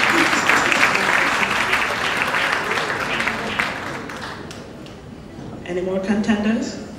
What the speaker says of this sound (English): keep clapping, keep clapping, keep clapping, keep clapping.